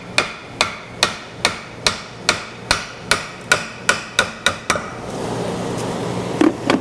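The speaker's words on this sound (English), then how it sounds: "Now I got my hammer up here in the vise, and what I'm gonna do is drive it in a little bit." Sledgehammer head clamped in a vise as a wooden handle is driven in, a steady series of about a dozen sharp metallic blows evenly spaced and close, then stopping into quieter shop noise.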